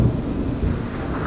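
Thunder during a June thunderstorm, a loud deep rumble filling the short stretch with a dense, rolling low roar and no talk.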